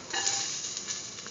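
Ginger stirred into a sizzling frying mixture for curried green peas and beetroot rice, a steady close crackling sizzle with soft scraping stirs throughout, no voices.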